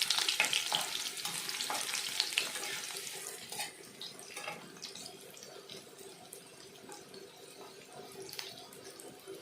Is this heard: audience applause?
no